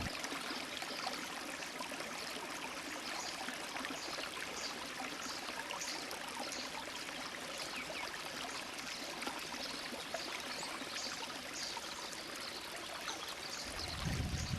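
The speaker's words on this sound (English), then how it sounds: "before us we have what's known as Piute Creek" Piute Creek flowing through a desert oasis in the Mojave National Preserve, California, gives a steady, dense hiss of running water with no pauses, close and continuous, with a low rumble of wind or handling at the end.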